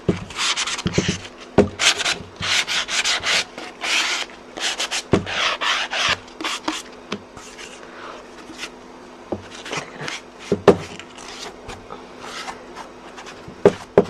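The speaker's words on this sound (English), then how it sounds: "I'm going to start by roughening up the frame a bit. Just looking for my manicure block here." Craft shadow box frame being roughened with a manicure sanding block: close, repeated rasping strokes in an uneven rhythm with short pauses, no talking.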